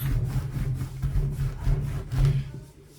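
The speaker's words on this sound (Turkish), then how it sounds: "Büzgülü baklavamızın son yufkasını da açıyoruz." A rolling pin works a thin homemade baklava phyllo sheet on a board, steady rhythmic rubbing and scraping strokes, close and fairly loud, with no talk over it.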